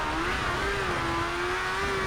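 A Pikes Peak Unlimited racing car engine in the video game Colin McRae: DiRT roars at high, steady revs, its pitch wavering slightly as it holds a loud, continuous whine with no talking.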